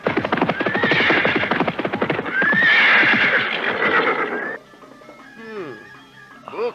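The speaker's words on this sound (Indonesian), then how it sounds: "orang-orang dari mana itu datang kemari dengan menaiki kuda-kuda yang gagah itu?" Horses ridden by soldiers arrive, with loud close neighing and whinnying over busy clip-clopping hooves; the riding fades into quieter snorts and scattered hoof clops near the end.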